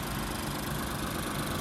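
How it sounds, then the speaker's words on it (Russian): A Lexus GS450h engine idling quietly and running smooth and even, a steady low hum with no knocking and no talking. "Работает тихо, никаких вопросов по работе двигателя у нас нету."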